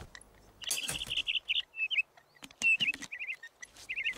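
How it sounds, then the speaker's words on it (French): Cartoon blue bird from Horseland singing, a string of bright chirps and short warbled trills in quick bursts, close and clear with faint background noise and no talk. "Bravo, qu'est-ce que tu chantes bien. J'ignorais que tu étais un oiseau chanteur."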